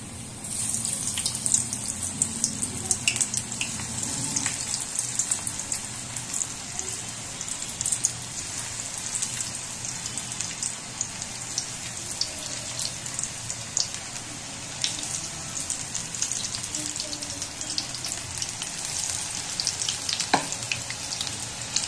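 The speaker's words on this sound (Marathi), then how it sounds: "आता आपण अशी हाताच्या साहाय्याने अशी भजी तेलामध्ये सोडून द्यायची आहेत" Onion and crab bhaji (khekda bhaji) frying in hot oil, a loud, continuous crackling hiss that holds close and steady throughout, with occasional sharper pops and no voices.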